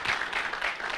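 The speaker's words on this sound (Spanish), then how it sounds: "Ok, aplaudimos para recibir la palabra." A congregation claps steadily at a Spanish-language church sermon, a dense, even patter of many hands with no break.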